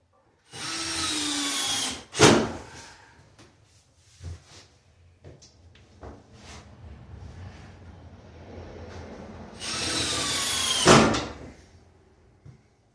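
Power drill driving screws into a door during installation, two loud whirring bursts at start and end with clunks and handling knocks between, close by.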